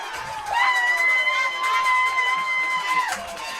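A football crowd screams and cheers after a touchdown, with loud sustained shouting and high whistle-like tones swelling near the mic.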